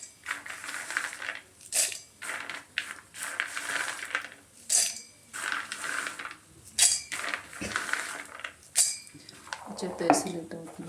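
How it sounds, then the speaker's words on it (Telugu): Peanuts tipped into a pan while making peanut powder, giving a run of repeated clinks and dry rattles against the metal, with a person talking over and between them. "ఇప్పుడైతే పల్లీలు వేసేద్దాం."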